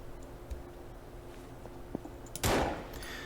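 Gunfire and an oil drum bursting apart in a Unity FPS prototype game: faint ticks and clicks give way to one loud, sudden crash-like blast that lingers in a low rumble.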